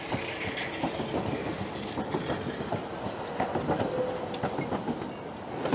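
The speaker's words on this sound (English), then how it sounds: "This tramway costs almost nothing." A tram passing along Karl Marx Avenue in Dnipro, its rumbling wheels clattering steadily with rail clicks and brief squeals, close and continuous with no talk.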